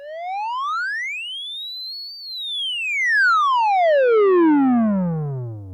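A Moog Claravox Centennial theremin sounds a pure, clear tone that sweeps smoothly upward to a high peak, then glides steadily down to a low pitch over several seconds, heard alone.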